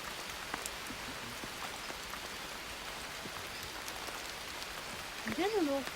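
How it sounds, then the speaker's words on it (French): Steady rain hisses evenly throughout during a long trek near an explosive volcano in Vanuatu. A brief rising-falling whistle or call cuts in near the end. "Le retour va durer 5 heures, sous une pluie battante."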